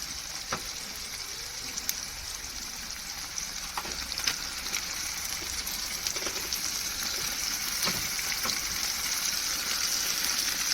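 Mutton hits golden fried onions in a pan for a home-made mutton curry, and a loud, continuous sizzle builds steadily, broken by occasional faint clicks, with no voices.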